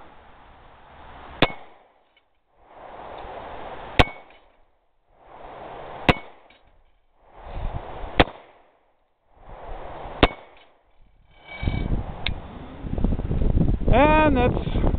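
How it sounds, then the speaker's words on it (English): Five sharp, loud gunshots from an NAA Sidewinder .22 Magnum mini revolver with a 1-inch barrel firing 30-grain Hornady V-MAX rounds, evenly spaced about two seconds apart with silence between, followed by someone talking. "this is the NAA Sidewinder 22 Magnum Mini Revolver"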